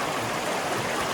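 Steady rushing of Hazel Creek flowing over rocks near Fontana Lake, a continuous broadband wash with no voices.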